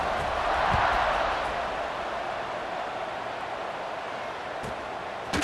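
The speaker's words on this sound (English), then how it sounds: "this crowd is buzzing after that last score" A stadium crowd in a college football video game, Iowa State against Arizona, keeps up a steady, loud broadband buzz of cheering and chatter that holds throughout without a break.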